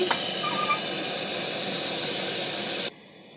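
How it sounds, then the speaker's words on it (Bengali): A gas stove burner is lit to heat milk, giving off a steady, close, loud hiss that runs for about three seconds and then abruptly cuts off. "গ্যাসটাকে ধরাচ্ছি বন্ধুরা দুধটা বসাচ্ছি"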